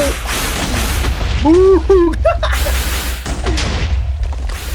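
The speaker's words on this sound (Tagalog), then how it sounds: "Uy, sumabog tayo." An explosion booms in a multiplayer video game, a loud blast with sharp burst sounds and echoing rumble, heard under excited players' chatter.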